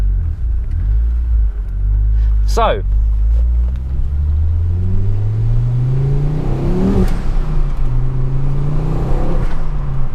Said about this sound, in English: the exhaust does sound really nice. It sounds lovely and deep.